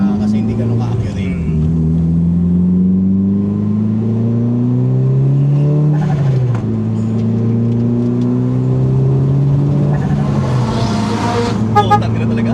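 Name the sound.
car accelerating on a run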